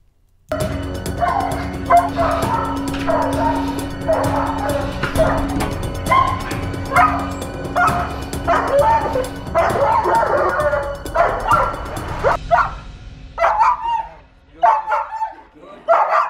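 A guard dog barks in repeated sharp bursts with yips and whimpers, close and loud, with voices heard in between.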